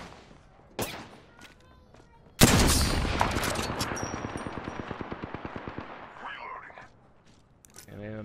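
Heavy automatic gunfire from the video game Apex Legends during a final fight, one sharp shot followed by a long rapid burst of close, loud rounds, with faint voices around it.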